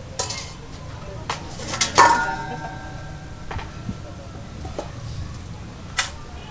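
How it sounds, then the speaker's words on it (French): A metal colander holding fonio is set down onto a cooking pot, giving a few clanks and one sharper metallic knock with a short ring, spread over a quiet kitchen background. "Je prends ma passoire avec fili et je mets ça sur la marmite"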